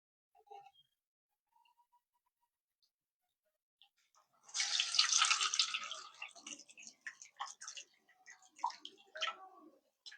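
Whey drains off freshly split chhena curds set with sour yogurt, a soft trickling and splashing that starts after a quiet pause, strongest at first, then thinning into scattered drips and gurgles.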